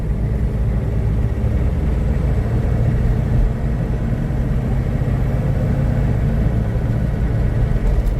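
A 1998 Hummer H1 open top drives along with a constant, loud, low engine drone and road rumble, steady throughout with no speech.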